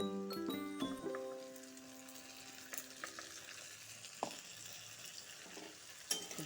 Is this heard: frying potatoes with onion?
yes